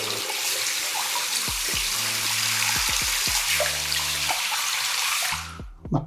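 Tap water runs steadily into a sink with a plug that keeps draining, a continuous splashing gush broken by a few clunks and knocks of handling before the flow cuts off near the end.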